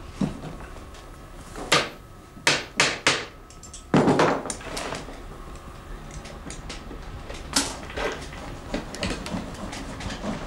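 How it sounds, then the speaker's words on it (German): An old master saddler nails wooden parts of a horse collar in a workshop, sharp knocks and hammer taps at an uneven pace, some clustered closely together, over a quiet room background. "Während der alte Sattlermeister noch mit dem Annageln der Hamenspäne beschäftigt ist"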